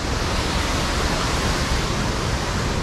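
Water cascades in a loud, unbroken rushing roar, dense and steady throughout with no pauses or voices.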